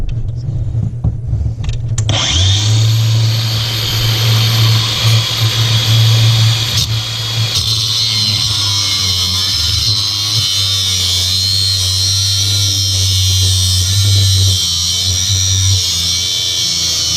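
A cutoff wheel grinds through a corroded, stuck galvanized pipe: a loud, sustained motor whine that spins up after a short moment and holds steady, close and harsh, with no voices.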